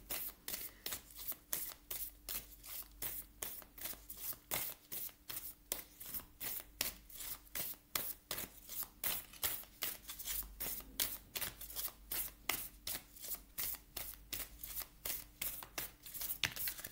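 An oracle deck of sacred mothers and goddesses cards is shuffled by hand in a fast, regular rhythm of crisp card slaps that carries on for the whole stretch, with no voices.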